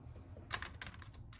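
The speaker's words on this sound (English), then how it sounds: "Okay, let's try the keyboard." Keys pressed on a Commodore 64 "Shortboard" keyboard under repair, a short burst of several quick, faint clicks over a low background hum.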